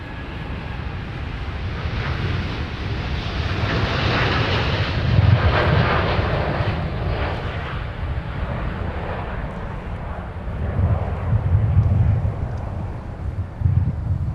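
A KLM airliner departs Minneapolis–St. Paul airport for Amsterdam with a steady, distant jet-engine roar that swells and fades, mixed with some wind rumble on the microphone.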